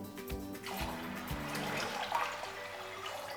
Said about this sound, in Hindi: पानी इसमें डाल देते हैं